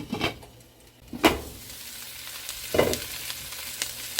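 Vegetables for chicken soup sizzle and fry in a pot while being stirred, a steady close hiss with a few scraping spoon strokes, no one talking.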